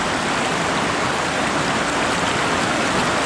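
Water cascades over a waterfall just above an embankment in New Zealand, a loud, steady broadband rush that fills the whole stretch without pause or other sounds.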